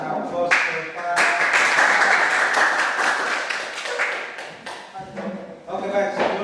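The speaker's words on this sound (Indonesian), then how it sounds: "Kita berikan aplaus kepada." Classroom audience applause erupts into a dense, sustained burst of clapping that fades after a few seconds, then briefly picks up again.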